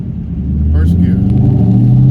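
An SN95 Mustang Cobra driving in first gear, with a steady low engine rumble building slightly as it pulls, while a faint interior rattle rides under it and a voice speaks briefly.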